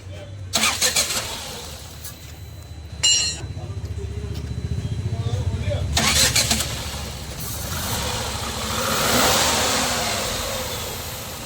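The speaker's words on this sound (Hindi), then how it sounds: "अपनी गाड़ी बढ़िया तरीके से स्टार्ट हो गई है" A Tata Tiago petrol car engine cranks and catches, with repeated starter bursts before it fires and settles into a rising rev and idle, heard up close with background chatter.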